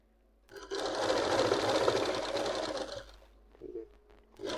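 A sewing machine stitches around the hem of palazzo pants: one close, steady whirring run of about two and a half seconds, then a few short stop-start bursts.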